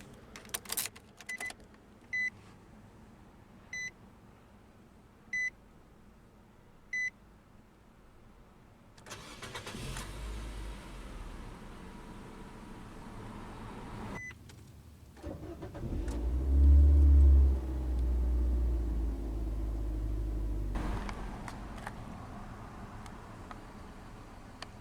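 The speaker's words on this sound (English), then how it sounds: "let's go ahead and start the engine" Faint key jingles and clicks, then a 2019 Nissan Versa SV engine cranks and catches, revving briefly before settling into a steady, close idle.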